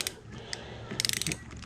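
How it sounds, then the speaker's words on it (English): A torque wrench set to 14 newton meters tightens a winch fastener, giving a quick burst of close, sharp ratcheting clicks followed by the brief snap as it reaches set torque. "When you're getting close to torque with the torque wrench, you slow down and apply slow, even pressure until it clicks like that"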